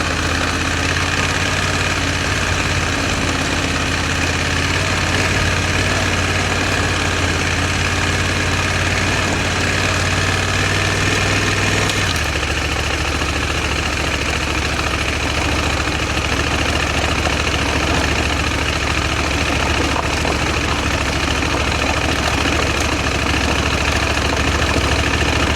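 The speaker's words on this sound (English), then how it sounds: "That's just letting the bike almost tick over, so not getting any wheel spin there." A motorbike engine barely ticking over at low revs on a byway ride in Wiltshire, a steady close rumble that drops to a lower note about halfway through, loud and continuous with no talk.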